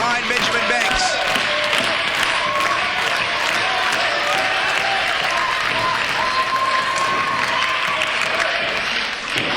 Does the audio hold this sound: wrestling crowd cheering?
yes